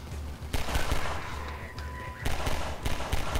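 Loud, rapid bursts of gunfire in Half-Life 2 crackle close up, with a brief lull mid-way before another volley of shots.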